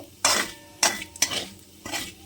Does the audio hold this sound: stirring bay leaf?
yes